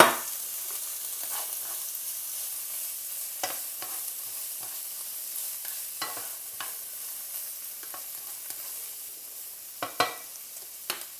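Peas stirred into a pan of sizzling lardons, a continuous close frying hiss with frequent spatula scrapes and clacks against the pan, no speech.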